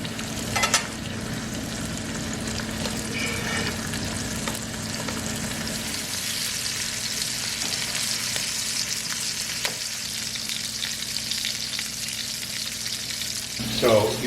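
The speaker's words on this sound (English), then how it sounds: "You cook them for 2 to 3 minutes, and then you flip it and cook it for 2 to 3 minutes skin side down" Chicken pieces fry in a pan for a tarragon chicken dish, giving a steady close sizzle with occasional crackles and a faint low hum underneath.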